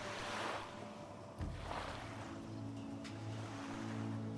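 Water waves washing in the online game Monsters & Memories, a steady low surf roar with a heavier swell surging midway, continuous and moderately loud.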